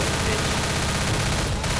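Sustained gunfire in the co-op zombie shooter Left 4 Dead, a dense continuous rattle of rapid shots filling the whole stretch at steady loudness, with a brief dip near the end.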